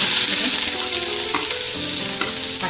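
Ginger frying in coconut oil in a pan, a steady dense sizzle with stirring throughout, close and loud.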